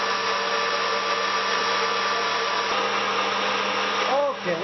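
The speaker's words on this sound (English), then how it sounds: "And you're going to blend it till smooth" A blender runs steadily, blending a pumpkin soufflé mixture with a loud, continuous motor whine that holds throughout and dips briefly near the end.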